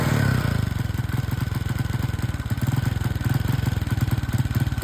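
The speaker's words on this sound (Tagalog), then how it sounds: "Kapag ganyan po ang andar ng motorsiklo" A motorcycle engine that is hard to start idles roughly, its low rumble pulsing unevenly with a clattering, sputtering rhythm, close and steady with no talking.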